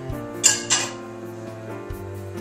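A metal lid set onto a pot of simmering black-eyed pea soup, giving two quick clinks close by, followed by a faint low hum and a softer knock near the end.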